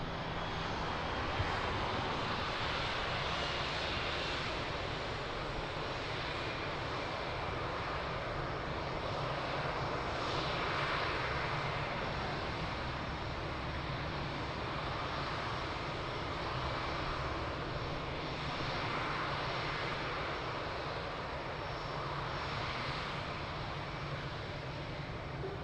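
A Boeing 777 at Lisbon Airport makes a continuous broad jet roar at moderate distance. The roar holds steady for nearly half a minute with slight swells and no voices.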